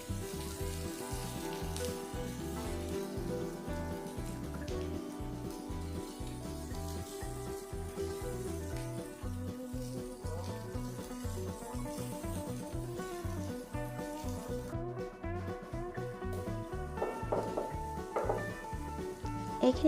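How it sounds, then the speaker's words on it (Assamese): Sliced carrot and French beans stir-fry over a high flame for street-style veg chowmein. A steady sizzle continues throughout, with rhythmic music playing over it. "এতিয়া মই দি দিছোঁ দীঘলকৈ কাটি লোৱা এটা গাজৰ আৰু গাজৰখিনি 1 মিনিটমান ভজাৰ পাছত মই ইয়াতে দি দিছোঁ ফ্ৰেঞ্চবিন আৰু হাই ফ্লেমতে মই এইখিনি 2-3 মিনিটমানৰ কাৰণে ভাজি ল'ম।"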